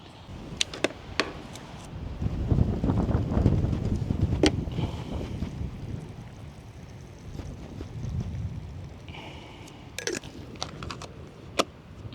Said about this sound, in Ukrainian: тут щось хмари згущуються, вітер піднімається і гримить сильно